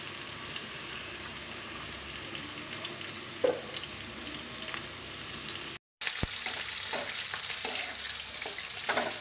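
Chopped onions with green chilli and tomato fry in a pan for chicken fry piece biryani, giving a steady close sizzle with faint scraping stirs, a brief gap near the middle, then sizzling again.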